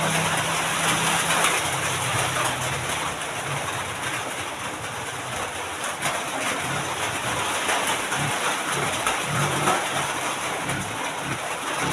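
Steady heavy rain pours down, a dense constant hiss on surfaces close by, unbroken throughout.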